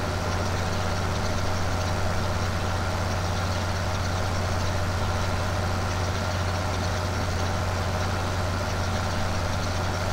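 A tractor engine in the video game Farming Simulator 15 drones steadily with a deep, constant low hum and a broad mechanical rumble, unchanging and close throughout.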